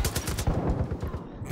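Rapid gunfire in Far Cry 5 sounds as a quick, steady string of close, punchy shots in a rhythmic automatic burst, with a voice faintly in the mix.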